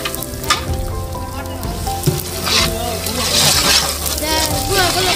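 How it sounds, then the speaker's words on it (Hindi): Ginger frying in oil with browned onions for mutton pulao, a loud, close, dense sizzle with stirring clatter throughout, a voice talking over it. "इसके अंदर अदरक डाल दी है, तो अदरक को अच्छी तरीके से भून लेंगे।"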